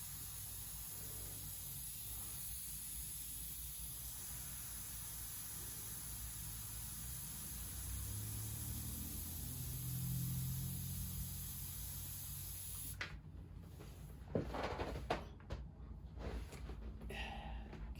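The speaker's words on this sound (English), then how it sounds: "And I'm just going to mist over." Soft hissing bursts of a spray bottle misting water over a painting, faint and close, with small handling noises and brief clicks toward the end.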